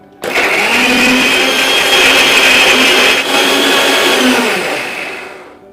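A blender grinds a paste of tomato, ginger, garlic and green chilli with a little water. The motor starts abruptly and whirs loud and steady for about five seconds, then winds down.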